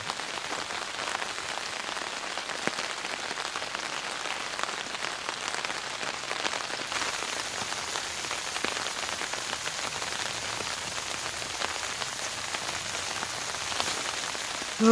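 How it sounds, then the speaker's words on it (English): Freezing rain falls outside at night during an ice storm, a dense, even patter of drops on surfaces continuing steadily and softly throughout with no voices. "It is icing outside right now, freezing rain."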